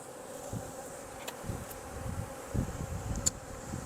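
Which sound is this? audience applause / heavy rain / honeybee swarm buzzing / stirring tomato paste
honeybee swarm buzzing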